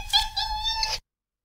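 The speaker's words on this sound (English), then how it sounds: "I have an audio example of several syllable meowing here" A cat gives a drawn-out multi-syllable meow, its voice rising and falling through several connected syllables in one close, clear call lasting about a second.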